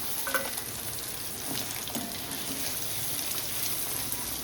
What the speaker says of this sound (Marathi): तर आपलं पनीर थोडंसं भाजलेलं आहे, काढून घ्यायचं मला.